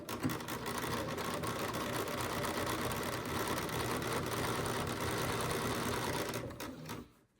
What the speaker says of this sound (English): we're going to sew a straight line to where I put this pin